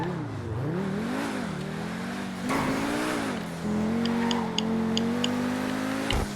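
Pegassi Zorrusso supercar in GTA Online, its engine revving and shifting through gears during a spirited drive, a loud steady roar rising and dipping with each change, close and continuous with brief faint clicks.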